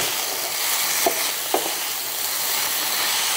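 Sliced carrot and cabbage fry in a pan with onion, giving a steady, fairly soft hiss with a couple of brief stirring scrapes and no talking.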